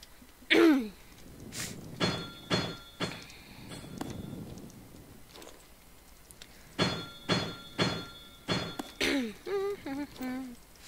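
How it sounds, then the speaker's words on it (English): A few sharp coughs and throat-clearing bursts come close and loud over quiet game background sounds, spaced out across the stretch, with a voice murmuring between them. "Sorry, I needed to cough."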